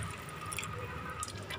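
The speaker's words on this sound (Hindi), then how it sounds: "अब मैं ऐड कर रही हूँ पानी।" Water being poured into a pan of paneer curry with spices on the stove; a soft, faint liquid trickle and splashing with small drips, steady for a moment and heard alone.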